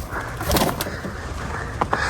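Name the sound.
pigeons cooing in a backyard coop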